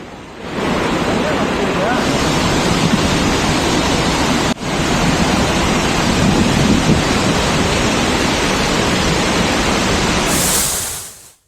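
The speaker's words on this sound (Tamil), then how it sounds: "ஆர்ப்பரித்து கொட்டிய அருவியில் திடீரென்று வெள்ளப்பெருக்கு ஏற்பட்டதால்" Roaring waterfall in a sudden flash flood, a dense, loud, continuous rush of water that fills the clip steadily from start to finish with no talk over it.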